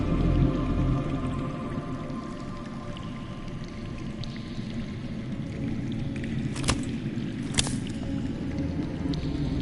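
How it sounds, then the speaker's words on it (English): Underground water flows in a Game of Thrones video game as a low, steady murmuring rumble, with a couple of sharp drips or splashes near the end. "That's water. I hear water. From underground."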